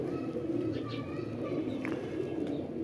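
Pigeons kept for flying coo softly in a loft, low rounded calls that repeat under a steady murmur of ambient noise.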